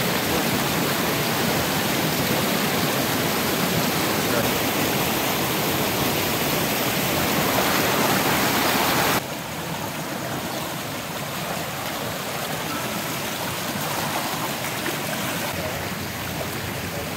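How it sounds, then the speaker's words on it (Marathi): The Katalkada waterfall near Rajapur at night, a dense continuous rushing roar of falling water heard at some distance, steady throughout and dropping slightly in level partway through, with no voices. "आता कातळखड्याचा धबधबाचा जवळ आले असं वाटतं कारण आवाज यायला लागला आहे."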